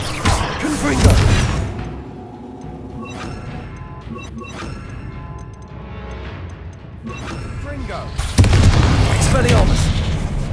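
A Confringo fire spell explodes in the video game Hogwarts Legacy. Loud booming blasts and crashing impacts come at the start and again near the end, with rumbling battle noise and some voices in between.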